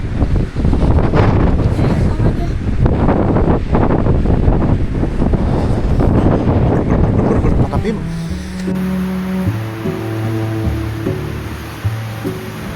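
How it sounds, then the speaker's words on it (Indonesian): Strong, cold wind roars and buffets loudly over a mountain road toward Dieng on the slopes of Mount Sindoro in rain. It is continuous and close, then eases slightly as a low musical drone takes over. "Ini kita nunggu anginnya agak reda dikit sama mungkin nunggu hujan agak reda."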